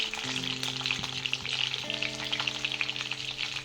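Salted eggplants cooking in a pan give a steady, close crackling sizzle with dense popping, while a faint tonal hum runs underneath, no voices.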